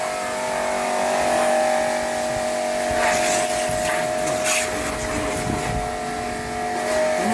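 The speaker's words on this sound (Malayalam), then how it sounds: "മോട്ടർ ഓൺ ആയിട്ടുള്ളത്" An inexpensive car wash pressure pump's electric motor runs continuously, giving a loud, steady whirring drone with a constant hum and no pauses.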